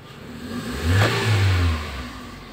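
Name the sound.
Toyota Vios 2003 engine revving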